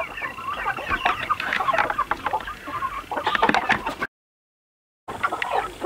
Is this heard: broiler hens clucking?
yes